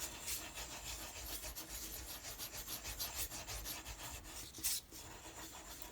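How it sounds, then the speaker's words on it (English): A wooden spoon rubs over paper laid on an inked linocut block, producing a steady, close scraping and rasping texture that continues throughout, with one sharper scrape near the end. "push down with your wooden spoon, your handle, whatever you want to use to push"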